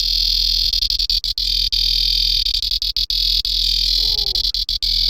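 A gritty, harmonically dense synth bass built on an electric guitar wavetable, for a jump-up drum and bass cricket laser bass, stutters in rapid choppy gated bursts, with a brief pitch-wobbling sweep near the end.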